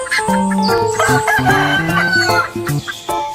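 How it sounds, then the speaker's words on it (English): A chicken and rooster clucking continuously with a crow rising through it, dense, close, layered fowl calls with no talk. "Chicken."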